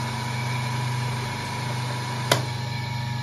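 A three-phase asynchronous electric motor runs at 3000 rpm with a steady, even hum and fine periodic buzz, broken once by a single sharp click near the end.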